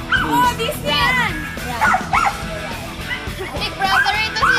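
Several dogs bark and yip in short repeated bursts, with a whimper or two, while people talk and shout over them.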